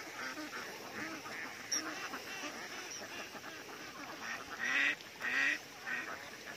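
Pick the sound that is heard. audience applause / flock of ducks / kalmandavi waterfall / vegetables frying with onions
flock of ducks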